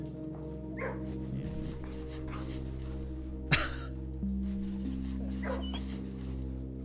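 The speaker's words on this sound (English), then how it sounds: "so many little beagles! Oh my, you can pet the beagle!" A cartoonish beagle in the video game Blue Prince barks in a few short, yappy bursts over steady, sustained in-game music, with one sharper yelp standing out near the middle.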